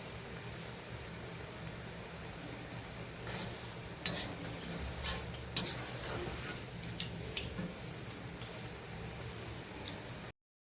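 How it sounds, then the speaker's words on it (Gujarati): A soft, continuous sizzle of gathiya snacks deep frying in oil, with occasional louder crackles and pops and faint stirring clinks. "આમાં સેમ જેમ આપણે સેવને તળતા હતા એવી જ રીતે તળવાનું."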